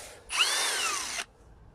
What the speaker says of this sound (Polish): wiertarko wkrętarkę marki Performance bezszczotkową